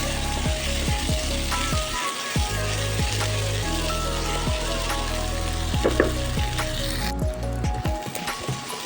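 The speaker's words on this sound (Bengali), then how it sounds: "এবার দিয়ে দেবো হাফ কাপ ভিজানো ছোলা, দিয়ে এটাকে আবারও ভালোভাবে ভাজতে থাকবো।" Potatoes and half a cup of soaked chickpeas fry in a pan for a spicy potato bhaji, a steady sizzle with repeated scraping and clinking of a spatula stirring throughout, close and continuous.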